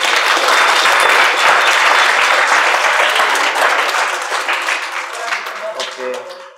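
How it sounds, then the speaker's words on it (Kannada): Loud, dense applause from a group after a free Anapanasati meditation class at the Lions Club in Bengaluru, with many hands clapping at once, voices mixed in, and the clapping thinning and fading toward the end. "ಜೋರಾಗಿ ಚಪ್ಪಾಳೆ ಧ್ಯಾನಕ್ಕೆ, ಜೋರಾಗಿ ಜೋರಾಗಿ"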